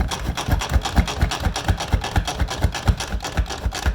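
A hand-powered manual food processor chops food, its blades whirring in a quick, even series of close, loud rasping pulses that continue without any talk.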